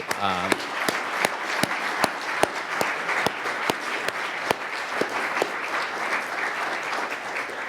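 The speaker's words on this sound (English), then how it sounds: "she deserves a big round of applause" An indoor audience at a talk on time-variant pricing applauds for an economist, with sharp claps ringing out clearly over steady, sustained clapping for several seconds.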